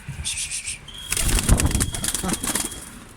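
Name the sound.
pigeons flapping wings in flight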